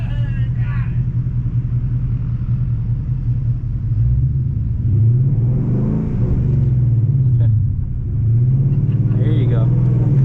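Ford Mustang GT S550 accelerating hard on a track, a loud, deep engine rumble rising and falling through gear changes, close and continuous, with a person talking over it.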